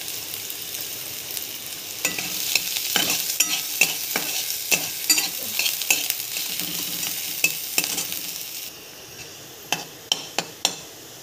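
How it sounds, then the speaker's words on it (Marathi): A small onion fries in a kadhai wok, a close sizzle punctuated by frequent rhythmic scraping knocks of a spatula stirring, the hiss dropping toward the end while a few separate clanks continue. "बघा याच कढईमध्ये आपण आता थोडासा एक कांदा भाजायचा आहे"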